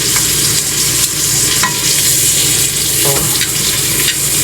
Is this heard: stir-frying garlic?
yes